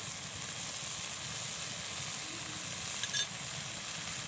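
Chopped onions hit hot oil while singara filling cooks, giving a steady, even sizzle that holds close and constant throughout, with a faint brief clink near the end.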